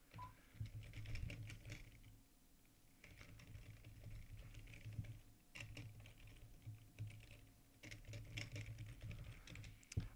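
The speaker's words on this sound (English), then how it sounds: "So I'm going ahead and type up a word problem." Fingers type on a computer keyboard in a quiet room. The soft, close key clicks run in irregular bursts with brief pauses between phrases, and no one talks.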